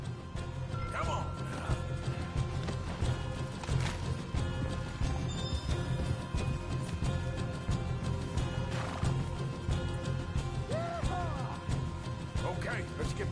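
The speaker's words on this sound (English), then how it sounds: "You get them horses free, Martha." Horses whinny a few times while hooves clatter and gear rattles in a busy game scene, voices talking over the commotion.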